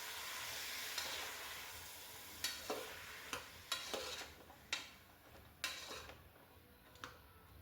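Bottle gourd pieces fry in oil with a steady low sizzle, broken by sharp scrapes and clinks of a stirring spoon against the pan at irregular intervals, close and moderately quiet.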